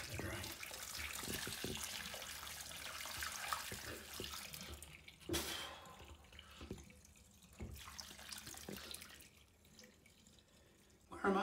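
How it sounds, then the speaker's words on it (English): Caustic soda solution poured down a blocked shower drain, a faint, steady trickle and gurgle of liquid with a brief splash partway through and a sharper sound at the end, without talk. "I'm gonna tip some of that onto there. But most of it, straight down the drain."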